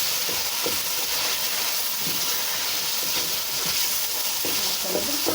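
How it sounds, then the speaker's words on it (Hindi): Peas fry with tomato masala in a pan, giving a steady close sizzling hiss throughout with faint scraping stirs. "अब हम इसमें मटर शामिल करके इसको अच्छा सा फ्राई कर लेंगे।"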